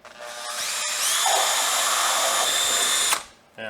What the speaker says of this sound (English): So most people have a drill.